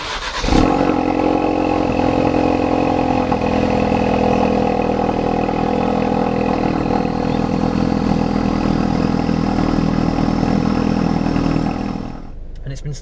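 Ford Focus RS engine idling after a cold start, a steady, loud, even drone with a low rumble and layered harmonic hum that holds constant for about twelve seconds before dropping off near the end.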